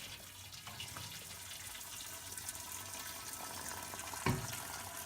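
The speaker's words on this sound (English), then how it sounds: "careful, this water is very hot. We're just going to pour over the top." Hot water is poured over a grain mash during all-grain brewing of a chocolate milk stout, making a quiet, steady liquid rush with a brief splash near the end.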